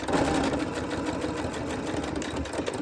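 A sewing machine runs steadily, top stitching the edges of a made-to-measure dog coat, its close, continuous motor whir and needle chatter holding an even pace throughout with no pauses.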